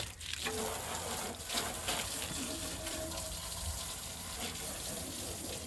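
A water spray soaks down a Kawasaki Mule 4010 utility vehicle, giving a steady hissing, splashing rush of water that runs close and unbroken throughout, with no talking.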